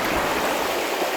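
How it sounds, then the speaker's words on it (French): A small waterfall in a mountain stream in Haute-Savoie rushes steadily, a dense, continuous broadband wash of falling water heard close up with no voices. "Là on a une petite cascade."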